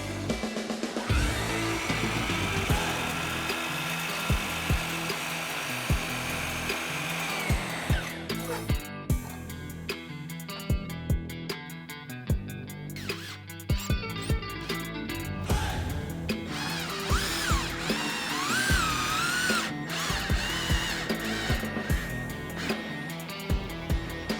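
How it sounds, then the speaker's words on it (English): A jigsaw cuts curved lines through an Evolve Stone panel, with a steady buzzing drone, then a rougher, choppier stretch with irregular knocks and rattles as the blade works through the material. "I used a jigsaw to make curved cuts to the hand-drawn shape I made."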